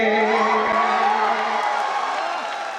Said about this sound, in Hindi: ऐसे काम नहीं चलेगा, इतनी कमजोर ताली से काम नहीं चलेगा।